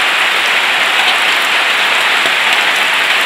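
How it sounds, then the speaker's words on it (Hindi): Heavy rain pours steadily and loudly in a continuous dense hiss, close by and unbroken, with no voices over it. "बारिश शुरू हो गया है अभी।"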